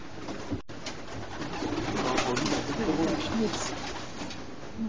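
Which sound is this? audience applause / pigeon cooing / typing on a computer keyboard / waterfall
pigeon cooing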